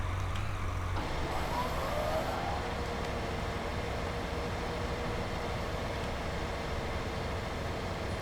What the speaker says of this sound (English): let's just get our front mower switched on